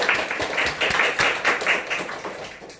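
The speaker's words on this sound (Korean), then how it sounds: "이하은 학생 우리 박수로 환영하겠습니다" A church youth Sunday service congregation claps to welcome a student, a brisk, steady burst of applause lasting a few seconds before fading slightly, with no talking over it.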